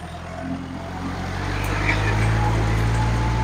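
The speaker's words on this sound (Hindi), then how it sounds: "45 HP का MU 4501 ट्रैक्टर है।" Kubota MU 4501 45 HP tractor engine running in a field, a continuous low drone that builds gradually in loudness over a few seconds with faint background noise.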